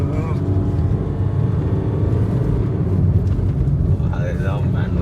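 A Skoda Rapid 1.5 TDI diesel car with a manual gearbox downshifts, its engine giving a steady, loud low drone that runs the whole time beneath a person talking.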